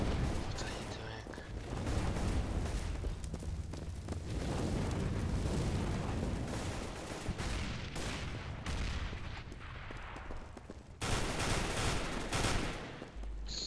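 Explosive bursts and crackling blasts from flashbang and incendiary grenades in the shooter game CS:GO, loud and dense throughout, with a sharp new blast near the end amid constant gunfire-like clatter.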